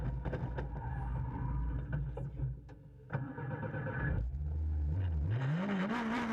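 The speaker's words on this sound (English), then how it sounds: "Chorin stalls the engine and loses some 20 seconds in this stage" A rally car engine rumbles and sputters, stalls briefly during a stage of the 2015 Spa Rally, then is restarted and revs up with a rising whine, close and loud.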